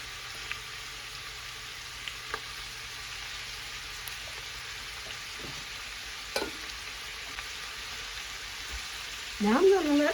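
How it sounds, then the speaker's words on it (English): Three large white onions sauteing in a pan give off a steady, soft sizzle that continues throughout, with a few faint clicks and a brief clatter near the end. "Now I'm going to let them saute until the onions are like transparent."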